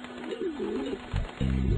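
Pigeons coo softly in a rolling, wavering call, followed by a few low throaty pulses close by, with no talking.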